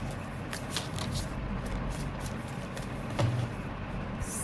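Tarot cards being shuffled and drawn, a steady papery riffle and slide over constant background noise, close and moderately loud, with a brief sharper card snap near the end and no talking.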